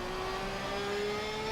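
GT3 race car engine accelerating at Mount Panorama in a racing video game: a steady, rising whine that holds a sustained tone, heard alone and fairly faint for a brief moment.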